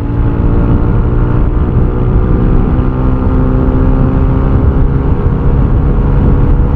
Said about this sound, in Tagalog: malakas ang dulo yung motor natin.